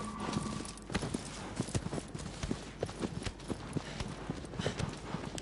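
Horse hooves clip-clopping in a video game, a steady rapid run of sharp hoof strikes over a dense, noisy background, close and continuous throughout.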